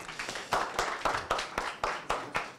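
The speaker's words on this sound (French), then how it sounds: "On peut l'applaudir." An audience at a panel event claps for a panelist, a short burst of sharp, evenly spaced hand claps heard fairly close.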